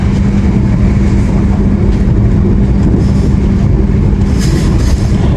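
A Sawunggalih Utama express train running at about 115 km/h on the track near Songgom station, with a loud, continuous roar and rumble of wheels on rails, heard from on board with no voices.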